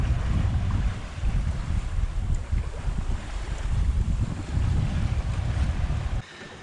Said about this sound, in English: casually sailing along at 7 knots, like it's yeah, it's pretty normal